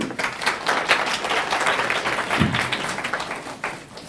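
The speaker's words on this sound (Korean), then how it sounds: "나오실 때 큰 박수 부탁드리겠습니다." An audience at a Korean university admissions briefing claps to welcome a speaker, with a lively patter of individual claps that rises and falls, and a brief thump partway through.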